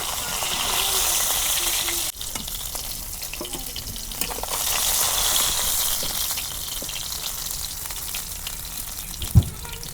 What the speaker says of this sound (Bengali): আবার এক খোলা মাছ ভাজা নেই।